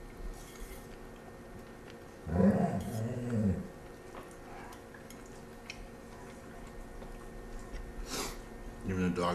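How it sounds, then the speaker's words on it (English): Airedale Terrier growling while eating, a low rumbling growl lasting about a second, with faint clinks and ticks in a quiet room and a person talking softly nearby. "That's Big Trace, the Airedale Terrier."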